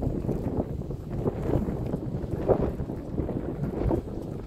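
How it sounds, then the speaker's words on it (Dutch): Strong wind roars and buffets steadily outdoors near a boat in Joure, Netherlands, a dense low rumble with gusts swelling and easing, no voices. "Maar ja, waait net iets te hard."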